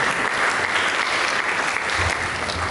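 A church congregation applauds together, a dense, steady wash of clapping filling the whole moment at even loudness, without pause or talk.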